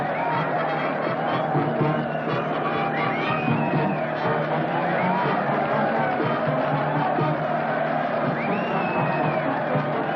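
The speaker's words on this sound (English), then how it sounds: "look at that mob waving and cheering." A large crowd waves and cheers to welcome long-lost castaways home: a dense, steady roar of shouting, whoops and excited babble lasting throughout, with a few whistles rising above the noise.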